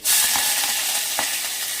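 Curry leaves, dried red chillies and fenugreek hit hot oil for an Andhra-style gongura dal tempering, bursting into a loud, close, continuous sizzle with a few spitting crackles.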